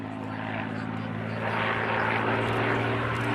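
A Supermarine Spitfire Mk XI photo reconnaissance propeller aircraft flies an air show display at RAF Cosford, its piston engine a steady, rough drone that swells louder midway through.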